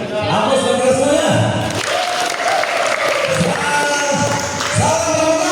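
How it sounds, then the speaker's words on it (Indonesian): An audience at a school gathering claps loudly and continuously for several seconds, with dense applause under a voice speaking over it. "Aplaus bagi semuanya."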